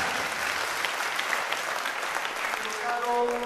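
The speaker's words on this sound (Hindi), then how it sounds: "जोरदार तालियों के साथ" Audience at a Jain monk's discourse in Gangapur, Bhilwara, giving hearty applause, a sustained crowd of clapping hands; near the end a voice or sung tone rises faintly over the clapping.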